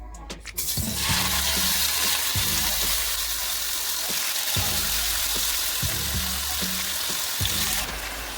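Beef hitting a hot pan and sizzling, a loud continuous frying hiss that starts abruptly after a clatter and persists, with faint rhythmic low thumps from stirring or a nearby fan underneath.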